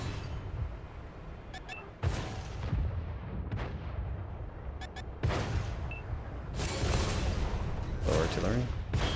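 Artillery fire booms in a tank video game as several heavy blasts with long rumbling tails land in close succession, while someone talks over them.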